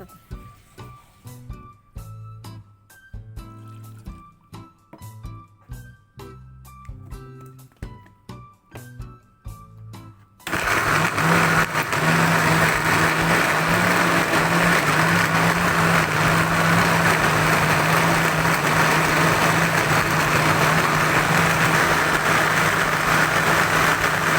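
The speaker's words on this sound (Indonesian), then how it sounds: "ini sekarang kita akan mulai blender" An electric blender whirs loudly and steadily after some brief clattering, blending chillies and spices with a little water, a continuous motor roar that dominates the scene.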